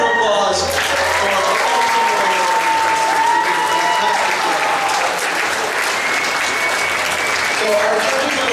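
Audience at the Fall Kraken Con 2014 costume contest breaks into sustained, loud applause with cheering and whistles after the final contestant, continuous for the whole stretch.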